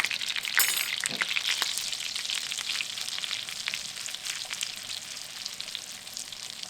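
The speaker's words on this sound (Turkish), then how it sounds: "nanemi ve biberlerimi kavurduktan sonra" Steady, bright sizzling of red pepper and dried mint frying in hot melted butter for lentil soup, continuous and close, with a few stirring scrapes near the start.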